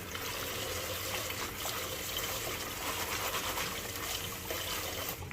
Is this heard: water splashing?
yes